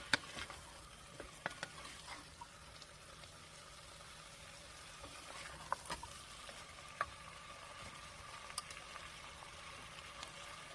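Garlic, pepper and carrots are stirred in a pot, giving soft, steady frying sizzle with scattered light clicks and taps of a spoon against the pot, quiet and continuous throughout, with no voices.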